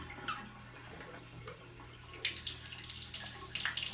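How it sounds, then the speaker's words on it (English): Hot water from a shower tap opened to full blast, a steady hiss of running water that swells louder midway and stays close and continuous, with no talk over it. "That's it, full blast, hot water."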